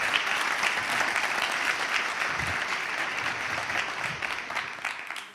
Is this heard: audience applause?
yes